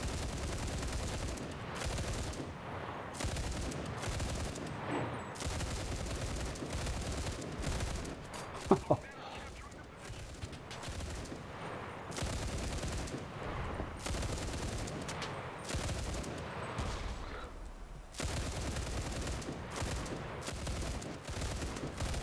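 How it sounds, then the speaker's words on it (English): Heavy DShK machine gun fire rattles in long, dense bursts through a chaotic Enlisted firefight, nearly continuous with brief lulls, while other gunfire and occasional voices mix in. "They're walking into the machine gun fire."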